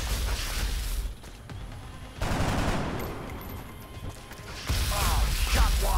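A missed shot in XCOM: Enemy Within is heard as bursts of gunfire and crashing impacts that come in loud waves, with short quieter gaps between them.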